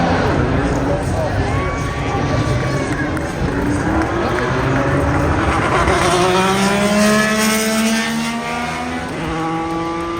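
An IndyCar race car roars on an Indy 500 qualification run, a loud sustained engine whine rising and falling in pitch as it passes, with crowd noise and voices underneath.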